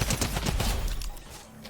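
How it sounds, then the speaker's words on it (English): Midas's drum gun in Fortnite firing a fast continuous automatic stream, a brief loud burst that tapers off at the end. "next we got up is Midas's drum gun"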